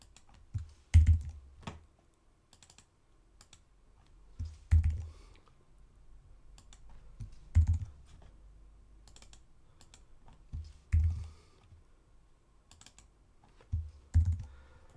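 Someone types link brackets on a computer keyboard, producing short bursts of key clicks with a few louder taps roughly every three seconds and quieter scattered keystrokes in between, close and clear in a quiet room.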